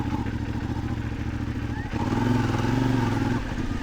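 A CFMOTO 450MT motorcycle rides along at medium revs, its engine droning steadily up close, then swelling slightly louder partway through under rushing wind.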